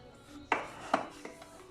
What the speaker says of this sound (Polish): cały czas mieszamy, mieszamy, ugniatamy to ciasta